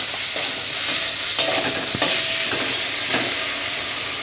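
Spice masala for a stuffed pointed gourd (kakrol) dish stir-fried in a pan, giving a loud continuous sizzle with a few scraping stirs of the spatula and no voices.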